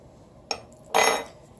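A spoon stirs granulated garlic into a dish, giving a brief clink followed by a louder scraping, rattling stir against the dish, close and with no talking.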